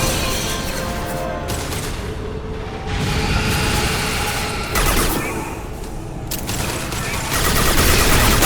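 Sustained gunfire in the video game Mass Effect 2 combat: dense, overlapping bursts of rapid shots and impacts, loud and continuous, with heavier blasts swelling in several times and no talk over it.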